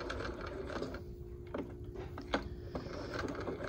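A sewing machine stitches a curved seam in fabric with a steady, quiet mechanical whir and light rhythmic needle ticking, punctuated by a few small clicks.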